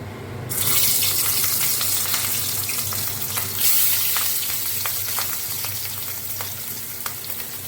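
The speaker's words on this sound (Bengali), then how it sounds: "তেলটা গরম হয়ে গেছে এবার এই তেলে আমি মাছগুলো ভেজে নেবো" Steady, loud sizzling of katla fish frying in hot mustard oil, with crackles and pops throughout and no voices.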